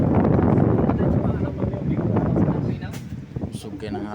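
Steady wind blowing against the microphone, a loud rumbling roar with gusts, while people talk over it.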